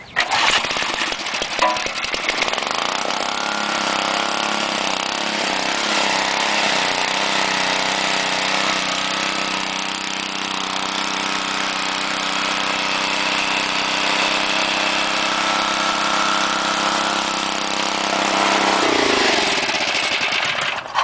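A Garden King tiller's small engine, choked and pull-started, catches after a brief rattle and then runs at a loud, steady idle with a throaty chug, close up.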